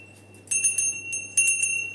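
A hand bell rung during a Ganesh aarti gives two bursts of bright metallic ringing, each a quick cluster of strikes with a lingering tone, close and clear over a quiet room.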